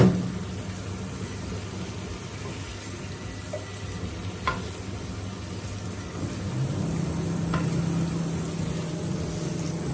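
Spices and spinach sizzling as they fry in a pan, a steady close hiss with occasional stirring scrapes, no talk.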